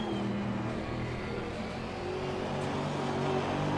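Race car engines drone steadily in a Kyalami racing video game as cars pass, a continuous loud whine of several engines with shifting pitch.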